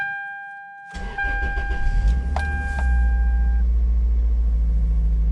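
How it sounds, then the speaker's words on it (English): Engine of a Toyota MR2 Spyder with an SMT sequential manual transmission cranks for a couple of seconds and fires, then settles into a steady close idle, with a whine and a few clicks near the start. "This is starting the vehicle without doing a relearn"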